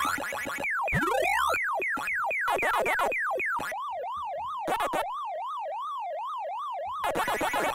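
Electronic arcade effects from the Pac-Man Museum+ video game: rapid descending and rising chirps and boings, then a looping warbling wail like a siren, with short bursts of blips. The sounds are clear and alone, without talk.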